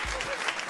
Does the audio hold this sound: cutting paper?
no